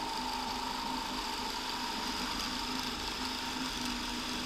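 Power drill boring out the front of a valve for a homemade nail gun barrel, a steady close whirring drone held evenly throughout with no talk.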